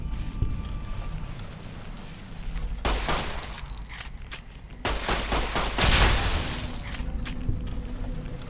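Rapid bursts of tri-beam laser rifle fire in Fallout New Vegas, several loud volleys with crackling impacts spaced across the clip, separated by short quieter gaps of game ambience.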